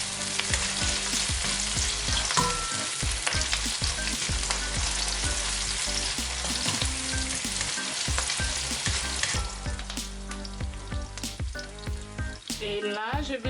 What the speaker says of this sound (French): Je continue à faire mijoter